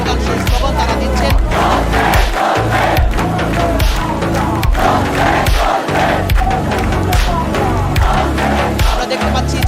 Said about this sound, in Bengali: পক্ষের যে স্লোগান সেই স্লোগান তারা দিচ্ছেন।